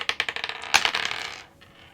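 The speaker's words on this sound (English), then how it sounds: "I need more dice." A handful of plastic gaming dice clatter and tumble across a table, a quick series of sharp rattling clicks ending in one louder clack and settling taps, with no talking.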